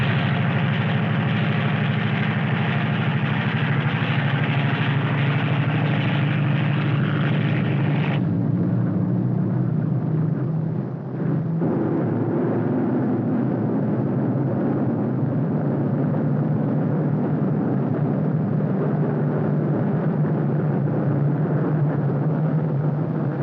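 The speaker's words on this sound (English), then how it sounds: "Watched that plane take off." A loud, steady jet engine roar fills the clip, shifting in tone partway through as the aircraft powers up, with no voices.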